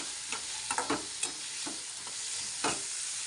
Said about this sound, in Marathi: जरा कांदा लाल होतो परतून घेते